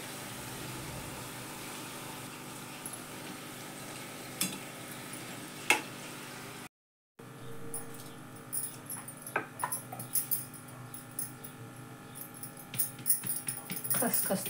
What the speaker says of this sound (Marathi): थोड्या थोड्या करून तळून घेतल्या तरी चालतात किंवा मग एकदम सगळ्या करून घेऊन तळायला घेतल्या तरी चालतं